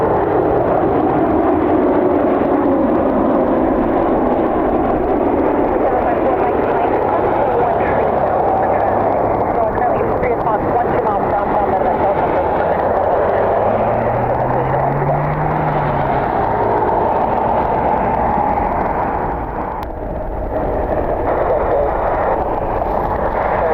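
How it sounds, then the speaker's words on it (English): Boeing 737 MAX 8 airliner flying inbound on a windy night at Cleveland, a steady loud roar of jet engines mixed with wind rumble that holds throughout, with a brief low whine passing midway. "Inbound from St. Louis, 737 MAX 8."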